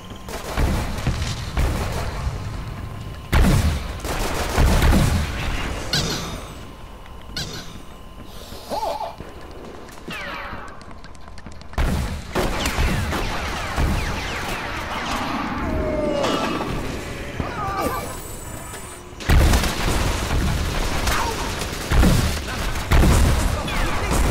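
Explosions and gunfire in the World War Toons video game come as repeated booms and rattling bursts, loud and close, with a quieter stretch between and someone talking at times.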